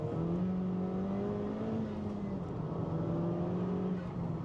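A Honda Civic Type R FK2, mapped to 350, accelerates hard on a damp road with a little wheel spin, its engine note rising steadily and loud, close by with no talk over it.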